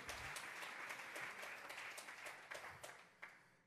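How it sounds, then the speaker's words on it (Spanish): A church congregation clapping along during a Spanish-language Bible study sermon, a steady quiet patter of many hands in rhythm, fairly distant and without voices. "Dele fuerte esas palmas al Dios de la gloria."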